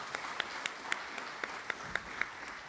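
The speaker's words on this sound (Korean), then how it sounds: "여러분 다시 한번 큰 박수 부탁드리겠습니다." Sparse, scattered clapping from a small crowd at the Jeju 4.3 memorial ceremony, a handful of distinct claps spread over a few seconds against a steady background hiss.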